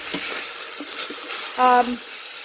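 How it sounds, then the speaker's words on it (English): Onions sauteing in extra virgin olive oil inside an Instant Pot, a steady close sizzle with a few stirring scrapes and a brief clink near the end. "sauteing the onions"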